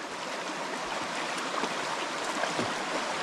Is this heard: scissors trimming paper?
no